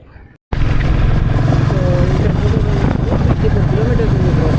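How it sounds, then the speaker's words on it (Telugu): A motorbike rides along a city road in Bangalore, a loud continuous engine drone with wind rumble filling the clip after a brief quiet start, and a voice talks faintly over it. "బైక్ డ్రైవింగ్ చేస్తున్నాం."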